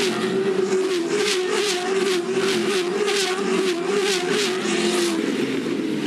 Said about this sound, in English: just raw power, raw speed, raw excitement of the V8 Supercars through 1 and 2